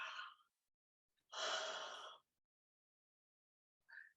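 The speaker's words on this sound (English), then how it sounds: "But we're going to simulate a yawn." A person makes a simulated yawn during a guided mindfulness breathing session: a short breath, then a long open-mouthed airy exhale, followed by a brief faint breath after a pause, all close and quiet.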